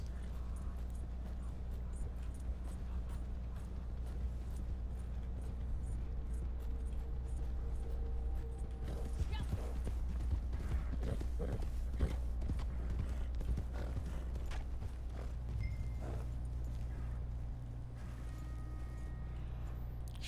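Horse hooves clip-clop at a steady pace in the video game Red Dead Online, heard over a constant low rumble of game ambience, with no speech.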